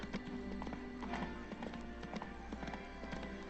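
A war horse in the video game The Witcher 3: Blood and Wine trots along with steady, rhythmic clip-clopping hooves, fairly close and clear over a quiet ambient background.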